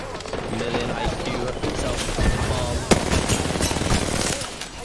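R-99 submachine gun fire in Apex Legends rattles in dense, rapid bursts, loud and close, with chaotic game effects and voices talking over it.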